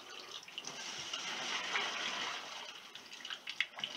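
Liquid is strained to pull beads out of it, giving a soft, steady pouring and trickling wash that runs throughout at low volume, with a few splashy spikes near the end.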